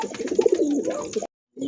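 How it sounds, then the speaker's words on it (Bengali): A pair of Satin pigeons, Jharna Satin type, coo up close on a farm in a string of throaty rolling coos, cutting off into a brief silence before cooing resumes. "এক জোড়া কি ভাই শাটিন কবুতর"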